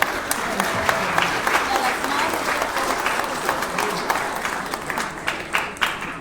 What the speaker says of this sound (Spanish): Un aplauso a los padres de familia